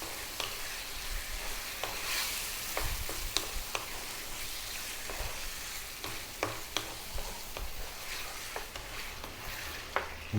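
A liver, kidney and heart curry mixture sizzles steadily over lively heat, with a bright hiss punctuated by frequent sharp scrapes and taps of a stirring utensil against the pan, close and continuous.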